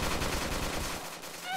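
Artillery fires in a Roblox zombie base-defense game, a dense rapid barrage of loud, close gunfire filling the moment before tapering off, followed by a short rising tone.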